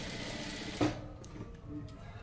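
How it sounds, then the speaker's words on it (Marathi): A sewing machine runs a brief double back-tack on fabric: a steady mechanical whir with a short louder clack partway through, then the motor humming on quietly. "डबल टिप मारून घ्यायची आहे आपल्याला इथे"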